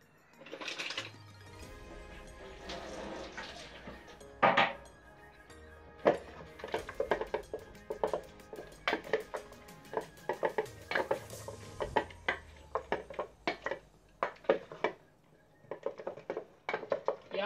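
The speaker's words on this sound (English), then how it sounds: "Let me stir it." Spoon scraping and clinking around a pot of curry chicken, with repeated irregular metallic taps and stirring scrapes, close and moderately loud, with no talk over it.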